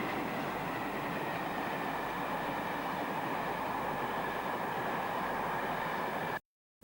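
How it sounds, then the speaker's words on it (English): A locomotive-hauled train returning from Aberdeen to Montrose in 1961 runs past in a steady, dense rumble with faint wheel rhythm, fairly close and unbroken, before cutting off abruptly. "The locomotive returns from the Granite City a few hours later."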